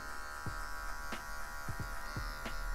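Electric hair clippers buzz steadily and close up while cutting an afro fade, with brief dips and soft rasps as the blade passes through the hair, and no speech.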